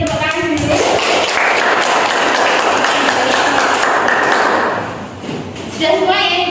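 Students in an Indonesian primary school classroom clap together, a dense burst of close, loud applause that fades out near the end. Children's voices are heard briefly before and after it.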